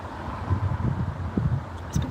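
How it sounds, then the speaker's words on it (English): Low, gusty wind rumbling across the microphone, buffeting in uneven bursts, close and fairly loud, with no voices. "It's been windy today, hasn't it? It's been really windy."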